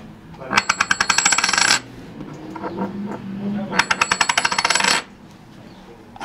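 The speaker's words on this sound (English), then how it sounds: "I'm gonna bounce this one first." A coin, one of a real and a fake pair, bounced on a hard surface twice, each time a fast run of bright ringing metallic bounces speeding up and fading out, with a quiet lull between.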